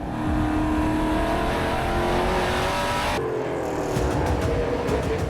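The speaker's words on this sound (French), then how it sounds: "Camiran a une voiture plus rapide et il le laisse savoir à Dumoulin" A drag race car accelerates hard at full throttle, a loud, continuous engine roar that climbs in pitch, drops sharply at a gear change and climbs again.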